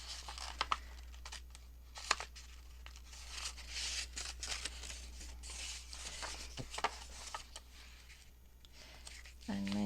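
Thick paper is folded into thirds for a junk journal pocket, giving close crinkling and creasing rustles with a few sharper crackles over a steady low hum.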